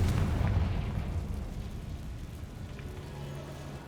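A Bombarda spell blast in a Harry Potter video game, heard as a loud, rumbling explosion that fades into a long, noisy crackling tail with no voices over it.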